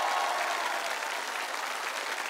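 Studio audience giving a loud, sustained ovation for a singer on a televised singing show, a thick continuous roar of clapping that tapers only slightly.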